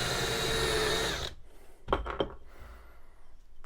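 A power drill fitted with a countersink bit bores into wood, a loud high whine for about a second before it stops, followed by a few quieter knocks and handling sounds.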